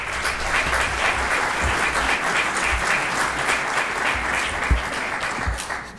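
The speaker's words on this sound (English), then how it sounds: "If you could please just give those facilitators one more round of applause." A large audience at a White House men's health event breaks into sustained applause, a thick, even wash of clapping that stays loud from start to finish with no talking over it.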